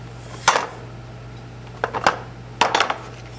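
Small metal bolts and nuts being handled while working on a 1993-1998 VW Jetta or Golf, three short bursts of clinking and rattling metal separated by quiet pauses, close by.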